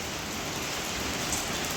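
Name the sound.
continuous night rain heard from a hotel room balcony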